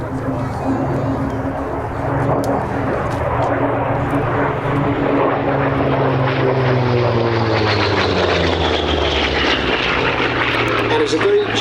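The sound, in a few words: Grumman F8F Bearcat propeller aircraft flying at an airshow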